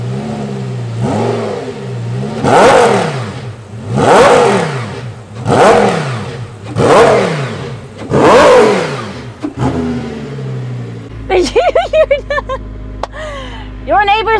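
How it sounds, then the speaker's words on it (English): Ten-cylinder engine of a Pambuffetti PJ-01 hypercar revving hard in five loud, rising-and-falling bursts, each swelling and dropping away, followed by quieter clicks and whirring as the revs die off. "I told you those 10 cylinders are gonna be so loud."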